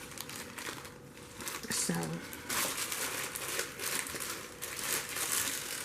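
Plastic bag of black eyed peas, one pound, being opened: crinkly rustling and crackling of thin plastic in bursts, close and moderately loud, with a voice briefly speaking.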